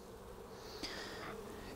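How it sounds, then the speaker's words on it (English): Honey bees buzzing over a brood frame lifted from a spring hive, a faint steady drone with one closer bee passing by in a brief rising whine. "The bees are either cleaning out some of that old honey or they're really consuming it."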